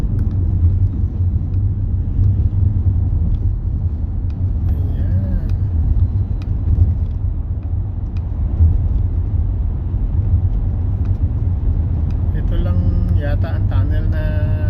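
Steady car cabin rumble while driving through Kai Tak Tunnel in Kowloon Bay, Hong Kong, in flowing traffic: a continuous low drone with faint passing vehicles, loud and unbroken throughout.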